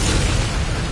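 A cannon blown apart in the video game Doom: The Dark Ages, a short, loud, dense explosive roar that fills the whole moment without letup.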